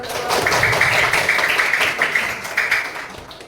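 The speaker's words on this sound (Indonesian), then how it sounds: "Beri tepuk tangan dong." A primary school classroom of pupils clap together in a steady burst of applause that tapers off toward the end.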